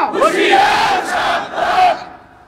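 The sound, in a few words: crowd answering a takbir call with Allahu Akbar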